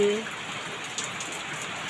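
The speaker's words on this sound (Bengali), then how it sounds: "দেখো এখনো বৃষ্টি হচ্ছে" Steady evening rain makes a continuous broadband hiss of falling drops, close and even throughout the short stretch.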